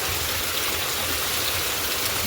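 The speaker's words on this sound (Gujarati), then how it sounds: "અંધાધાર વરસાદ શરૂ થઈ ગયો" Dense, steady rain hisses loudly and continuously in a village, a heavy downpour with no pauses or voices.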